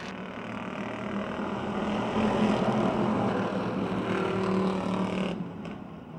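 Stock cars race at the Motordrome Speedway, their engines a loud, sustained roar that swells and then thins toward the end, with no one speaking.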